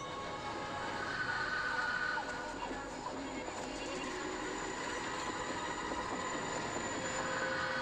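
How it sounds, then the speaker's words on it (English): A train passing in a TV episode scene, a dense, steady rumble with rail noise that holds at an even loudness throughout, with no talking. "It's a train."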